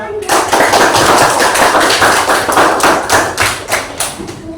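Students in a classroom clap their hands together, a loud, close burst of many overlapping claps with rhythmic beats pulsing throughout.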